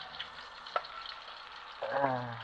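Greens drop into hot oil in a small pot and start frying. A quiet crackle is broken by a sharp tick, then a louder sizzling surge near the end.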